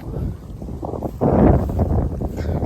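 Wind gusting outdoors across an integrated farm garden in rural Laos, a steady broadband rush that swells louder midway and stays close to the microphone, with no talk.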